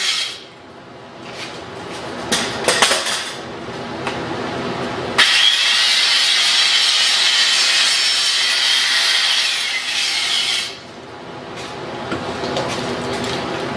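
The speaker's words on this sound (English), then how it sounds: "Another precision weld." A downhill welding arc gives a steady, loud crackling hiss that starts abruptly, holds for about five seconds and cuts off sharply, with quieter handling and scraping sounds before and after.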